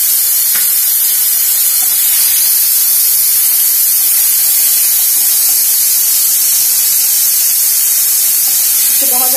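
Ginger garlic paste frying in hot oil in a home kitchen, a loud continuous hiss and sizzle with faint clinks, steady from start to finish.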